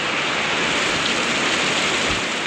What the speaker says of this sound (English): one crazy soaking rain later